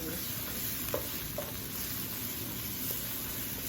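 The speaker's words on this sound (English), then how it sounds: "Sizzling." Steady sizzle of garlic and onions frying for fried rice, with a couple of faint clinks of a utensil, continuous and close, no voices.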